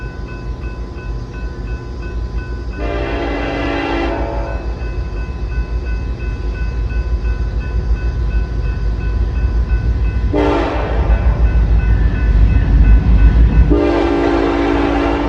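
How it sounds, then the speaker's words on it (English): A loaded eastbound BNSF coal train passes close by on an Iowa line with a low, continuous rumble of rolling cars. Its horn sounds three loud blasts, each a little longer than the last. "BNSF sent an eastbound loaded coal train through"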